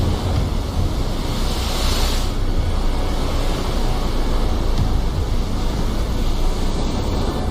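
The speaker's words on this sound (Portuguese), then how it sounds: "o oceano bate contra uma costa rochosa e irregular." Ocean waves crash against an irregular rocky coast in a continuous loud roar of surf, with a brief swell of spray near the start and wind buffeting throughout.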